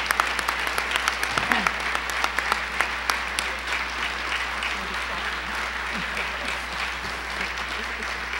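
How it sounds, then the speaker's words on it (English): An audience applauds at a real estate association's installation of officers and directors, with dense, steady clapping from a sizable crowd in a hall, loud and sustained throughout. "ask all of you to stand and give her a resounding round of applause"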